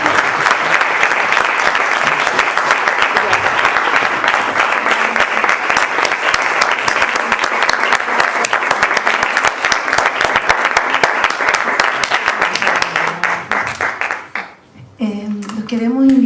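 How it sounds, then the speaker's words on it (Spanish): A large audience at a conference gives a long, warm round of applause, steady and loud throughout, then dying away before a voice starts speaking at the end. "un gran aplauso cariñoso y afectuoso"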